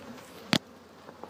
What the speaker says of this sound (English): That's a lot of busy bees.